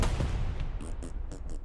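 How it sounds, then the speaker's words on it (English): Artillery fire in the World War II video game Hell Let Loose, a heavy low rumble of impacts up front, followed by a few short, sharp metallic bursts, with battlefield noise underneath. "And gets killed by artillery."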